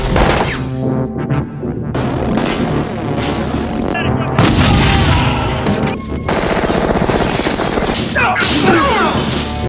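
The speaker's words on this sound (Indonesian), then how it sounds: "suara tembakan yang terdengar sangat kencang saling bersaut-sautan" Dense, loud bursts of gunfire and booming blasts in a film prison escape crash over and over for several seconds, with a sweeping cinematic soundtrack underneath.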